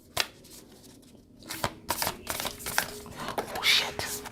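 A tarot deck is handled and shuffled up close, with soft crisp card riffles and flicks that build into quick papery snaps as a single card is drawn, alongside faint speech.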